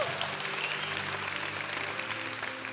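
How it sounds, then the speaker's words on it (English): Audience applause at a banquet: a faint, steady patter of many hands clapping, heard from a distance for a few seconds. "Thank you for that applause"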